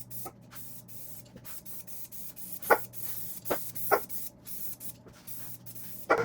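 Epoxy primer sprays onto the bonnet of a 1966 Triumph GT6, in a series of short, close hissing bursts with pauses between them.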